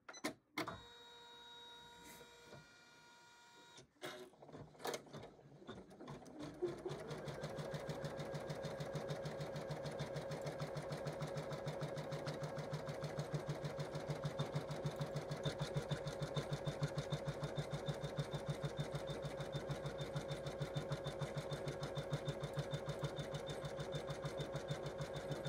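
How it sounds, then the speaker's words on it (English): An embroidery sewing machine stitches a stocking-shaped placement line in the hoop for a quilted Christmas stocking. A few clicks and knocks come first, then a steady, fast mechanical whirr runs on evenly, close and alone. "turn on the machine and it's going to draw me out a placement line so I know where to put my batting"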